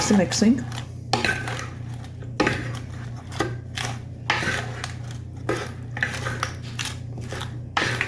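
Lettuce salad tossed with dressing in a bowl gives repeated clattering, scraping bursts of utensils against the dish. The bursts come at an irregular rhythm, close and moderately loud.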